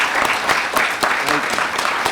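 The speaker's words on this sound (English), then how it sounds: "just give them a round of applause" A crowd claps for veterans at a county commission meeting, a short burst of close, rhythmic applause with a few voices mixed in underneath.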